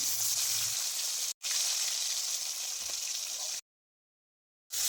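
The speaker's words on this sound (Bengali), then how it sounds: "কই মাছগুলো একসাথে ভাজবো না দুটো দুটো করে ভেজে নিচ্ছি" Steady hiss of koi fish (climbing perch) frying two at a time in hot oil, fairly loud and continuous, with a brief break and a longer silent gap near the end.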